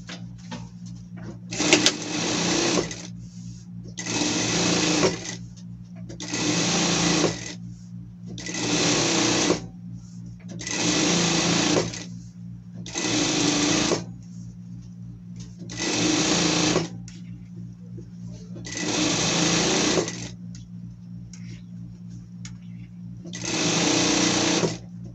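A sewing machine stitches a garment seam on a pet outfit, running in about nine steady bursts of a few seconds each with short pauses between, loud and close, with a constant low hum underneath.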